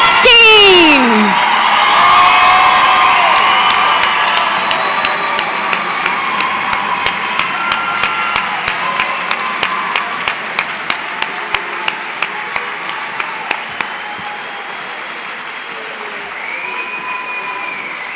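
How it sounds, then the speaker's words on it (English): A crowd at a 2016 high school graduation applauds and cheers for the graduating class, a loud swell of clapping and whoops that gradually fades, with a voice calling out early on. "One more round of applause, ladies and gentlemen, the graduating class of 2016."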